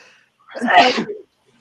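One short, sharp sneeze sounds close by in a quiet room during a live-feed recap stream.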